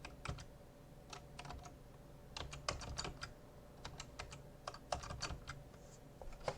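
Soft, quiet keystrokes on a computer keyboard, in irregular clusters of quick clicks with short pauses between them, heard alone in a quiet room.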